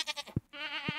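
A sheep in the farming game Stardew Valley bleats loudly and close, several quivering, wavering calls in quick succession with brief gaps between them.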